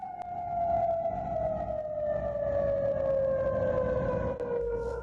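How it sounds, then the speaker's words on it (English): A civil defense air raid siren wails across Kuwait during a ballistic missile attack, one long sustained tone slowly falling in pitch, loud and steady over distant background noise for five seconds. "It's the sound of the terror siren."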